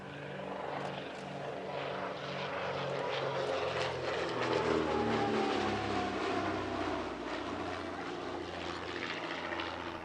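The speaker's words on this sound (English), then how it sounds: "The Comet participated in not one, but 2 special formations at the Family Airshow." A de Havilland Comet flies in formation at the Shuttleworth Family Airshow, its engines giving a steady, throbbing drone with a pulsing rhythm that holds at moderate distance for the whole stretch.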